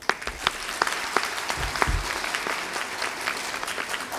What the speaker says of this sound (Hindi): आप सबके लिए एक जोरदार तालियां।